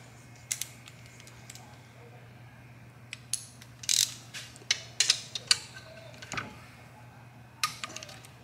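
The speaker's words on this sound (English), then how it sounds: "these bolts get torqued to 35 foot-pounds, so I'm going to do it in two steps" Torque wrench tightening engine bolts to 35 foot-pounds on a Kawasaki ZX14 engine build, heard as scattered sharp metallic clicks and ratcheting bursts over a low steady hum, close with no talk.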